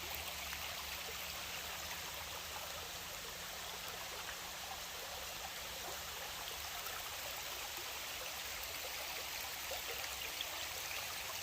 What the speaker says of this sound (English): I can hear the rain coming through the trees